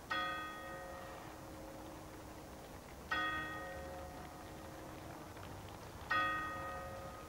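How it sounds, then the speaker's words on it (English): A large clock tower bell strikes three times at slow, even intervals, each strike ringing out and fading, distant against quiet background, during the Trooping the Colour ceremony. "The old clock tower chimes out"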